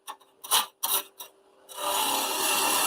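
Woodturning gouge on a lathe, a few short scraping strokes on an offset handle blank followed by a steady, rough continuous cut, close and moderate in level.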